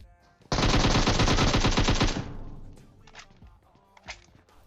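A long, loud burst of rapid automatic gunfire in a video game lasting about two seconds, then trailing off into scattered distant shots and thuds.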